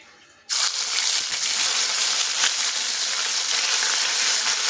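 Ginger and green chili paste drops into hot oil with tempering spices for a pumpkin dish, and a quiet start jumps into a loud, steady, close sizzle that continues to the end.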